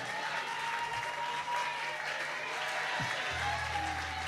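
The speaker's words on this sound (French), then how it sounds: "Applaudissez très fort pour lui." A church congregation claps together at an anniversary celebration service, a continuous wash of applause heard at moderate distance, with a faint tone and some crowd noise underneath.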